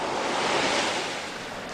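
Sea waves wash onto a shingle beach at the foot of a chalk cliff on the Alabaster Coast, a continuous broad rushing hiss of surf, close and loud, easing slightly toward the end with no voices.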